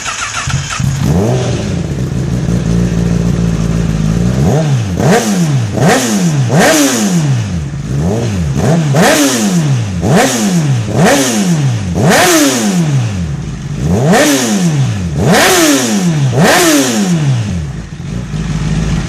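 A Honda CBR1000RR superbike with freshly cleaned injectors and new race spark plugs, already warmed up, idles loudly and then revs in a steady series of sharp throttle blips, each rising and falling, close and alone without talk.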